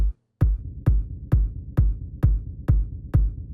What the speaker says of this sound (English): Bring in the reverb rumble.